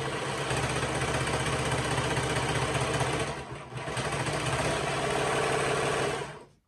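A serger stitches fabric for holiday coasters, its motor a close, continuous mechanical whir that briefly slows midway before running on and then stopping.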